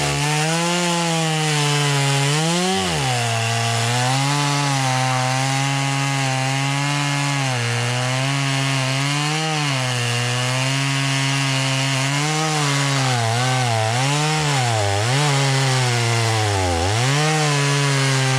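A Stihl chainsaw, an MS170 or MS260, trims wood beside a trail, running loud and continuous with the engine pitch rising and falling as it bites into the cut.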